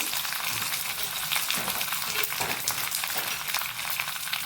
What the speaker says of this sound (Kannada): ಸಾಸಿವೆ ಸಿಡಿಯುವಾಗ ಆಫ್ ಮಾಡ್ಕೊಳ್ಳೋಣ